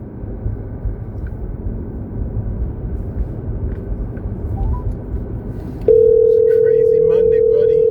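A steady telephone dial tone cuts in partway through and holds loud and unbroken to the end, following several seconds of rumbling traffic and background noise outdoors.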